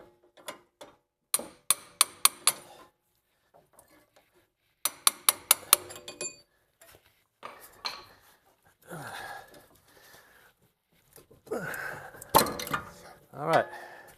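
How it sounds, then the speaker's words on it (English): A brass punch is hammered out of the rear strut mount of a 2002–2008 Toyota Camry: bursts of rapid sharp metallic hits, pauses between them, then scattered clanks and scraping mixed with some talk. "Just gonna punch the brass punch out from the other side."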